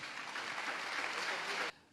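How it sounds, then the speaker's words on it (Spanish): A church congregation claps loudly in praise, a sustained dense burst of applause that cuts off abruptly near the end. "Den un aplauso fuerte al Señor"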